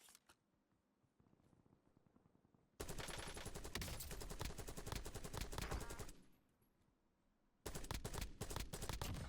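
Rapid automatic gunfire in Call of Duty Warzone rattles out in two loud sustained bursts separated by a quieter pause, the shots dense and close against faint background game sounds.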